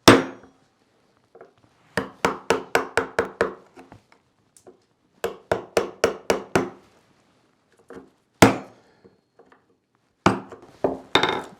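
A mallet drives a wood chisel into timber about 25 mm deep, in sharp, close knocks. Bursts of five or six quick blows come one after another, with a few single strikes in the quiet pauses between them.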